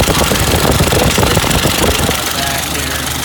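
The old engine of a 1930 Ford AA truck runs steadily with a rough, knocking mechanical clatter, loud and close, its busy idle continuing throughout.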